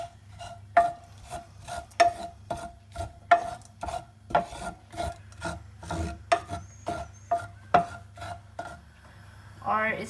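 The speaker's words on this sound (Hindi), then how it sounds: "सनफ्लावर सीड, ओट्स और अलसी, और इसको हम हल्का सा रोस्ट करेंगे" Sunflower seeds, oats and flaxseed are lightly roasted in a pan, giving a steady run of dry, raspy scraping strokes, roughly two per second, close and fairly loud with no talking.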